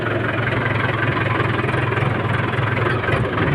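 Mahindra 475 tractor engine running steadily, a loud, continuous diesel rumble with a throbbing low-end vibration and no voices.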